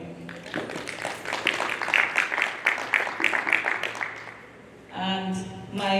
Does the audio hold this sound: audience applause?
yes